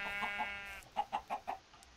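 Minecraft chicken clucking in the video game, a short close series of soft clucks, a few spaced notes and then four quicker ones, with no talk over them.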